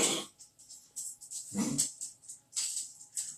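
A dog pants and snuffles in quick, breathy bursts close by, with a soft whimpering note and no talking.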